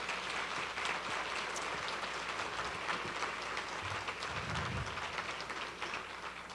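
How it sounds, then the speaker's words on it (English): Faint, distant audience applause at a children's mental health summit, a steady wash of many hands clapping at low level throughout. "deserves another round of applause, please"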